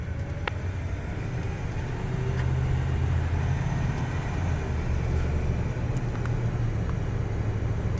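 A 1975 Ford Thunderbird cruising at low speed, heard from inside the cabin as a steady, fairly quiet low engine drone and road rumble that swells slightly midway, with no talking.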